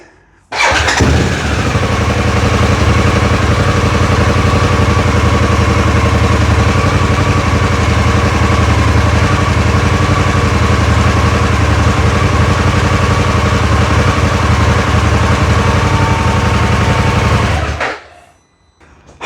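A Harley-Davidson Pan America motorcycle engine cranks and fires, then settles into a loud, steady rumbling idle close to the microphone for about sixteen seconds before cutting off abruptly.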